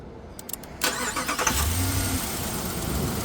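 A Dodge Ram 1500 pickup with a V8 Hemi, a truck that had been stalling out while driving, cranks and fires up, followed by a loud, steady idle rumble close by.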